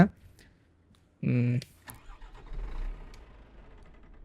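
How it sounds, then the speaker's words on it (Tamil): A dirty vintage truck under restoration cranks briefly with a short starter whir, followed by a low uneven rumble that never catches into a running engine, with a voice talking nearby. "இப்போ வந்து வண்டி நம்ம ஸ்டார்ட் பண்ணி பார்ப்போம் ஸ்டார்ட் ஆகுமான்னு தெரில"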